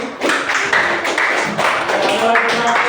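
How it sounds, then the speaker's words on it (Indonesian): Students in a classroom clap for a classmate during a lesson, a short burst of uneven, fairly close hand claps with some voices mixed in. "Tepuk tangan buat Zaki."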